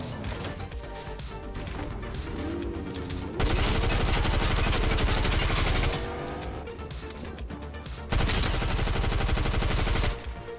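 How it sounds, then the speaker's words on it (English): Rapid SMG fire in the video game Fortnite comes in dense, loud bursts over continuous game sound, with two sustained stretches of automatic shooting separated by a brief pause. "Gotta keep on going with this SMG."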